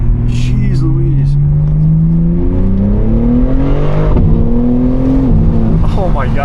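A tuned BMW M3 G80 accelerates hard, its engine note rising steadily through the gears in a loud, close cabin recording, with gear changes breaking the climb and a voice exclaiming over the engine.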